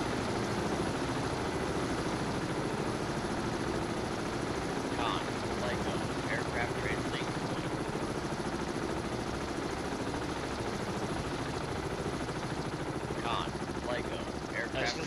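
Submarine-hunting helicopters in a Kiev-class cruiser game mod, heard as a dense, steady rotor and engine roar with a few brief sharp bursts partway through; no one speaks.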